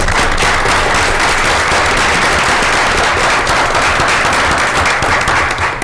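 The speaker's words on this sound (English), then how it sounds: "Can we give them a round of applause?" An audience at a school district board of education meeting applauds, with dense, steady clapping from many hands filling the room, loud and close throughout.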